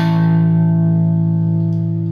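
An open, ringing electric guitar chord from a pop-punk song lesson, played unmuted with distortion and effects, sustaining loud and alone with a slow decay.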